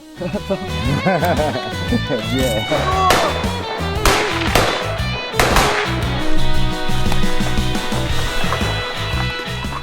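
Sharp gunshots crack out repeatedly in fast bursts during marine infantry rapid-fire tactical training, over continuous loud talking and shouting, with a few heavier blasts standing out.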